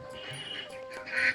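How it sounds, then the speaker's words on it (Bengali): A duck gives a brief, close quack in a Bangladeshi village yard. "গ্রামীণ মানুষের জীবনে হাঁস মুরগি যেন এক পরম আপনজন"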